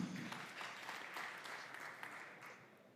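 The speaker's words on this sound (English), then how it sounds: "A very warm applause also for you." Audience applause at a conference session on 5G and broadband, a soft, fairly distant patter of clapping from a modest crowd that stays steady for about three seconds.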